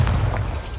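The Bombarda blasting spell in Hogwarts Legacy detonates as a deep, loud, booming explosion with a rumbling low-end tail that fades over under a second, no talk.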